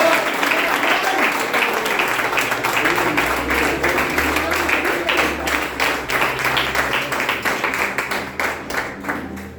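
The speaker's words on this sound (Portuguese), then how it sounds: "Aplauda o Senhor em nome de Jesus." Church congregation applauding during a worship service, dense steady clapping filling the room with some raised voices mixed in, fading slightly at the end.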